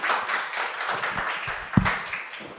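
An audience at an innovation talk claps to welcome a speaker, giving a moderate, uneven patter of hand claps with a sharper clap or thump near the end.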